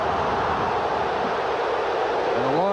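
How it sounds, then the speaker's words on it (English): A stadium crowd at a 1986 Michigan at Wisconsin football game, a dense steady roar that holds loud throughout and swells slightly toward the end, with a voice rising over it at the close. "And the longer he waits, the louder this crowd gets."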